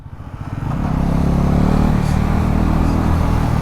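A brand-new Bajaj Pulsar NS400Z motorcycle is ridden and accelerated, its engine rising from a brief rev into a loud, steady, close-up drone that holds for several seconds.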